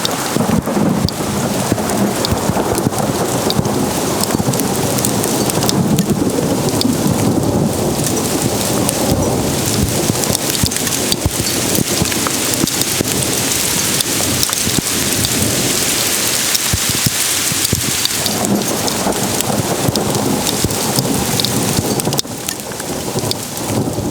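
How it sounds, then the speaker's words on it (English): Heavy rain from a thunderstorm in a remote canyon pounds loudly and continuously, with deep thunder rumbling underneath throughout and no voices. "that storm snuck up on us quick. From the moment the first drops started falling, it was like a full-on deluge within like a minute."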